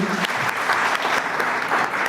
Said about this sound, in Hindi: एक बार और जोरदार ताली इस प्रोडक्ट के लिए।